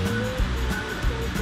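Rushing water from the series of waterfalls at Diana's Bath in New Hampshire, a steady broadband roar heard close and continuous throughout, with no voices.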